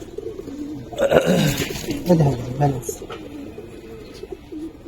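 A Giribaz pigeon coos softly and close in a few low, burbling calls while someone talks nearby over faint background rustle.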